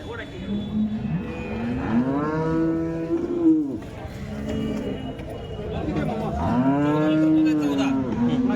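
A cow moos several times in long, drawn-out calls, close and fairly loud, over a steady murmur of background voices at the Sangola cattle market.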